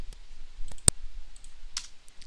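A few scattered clicks of a computer keyboard being typed on in a quiet room, close and brief, with one sharper keystroke standing out.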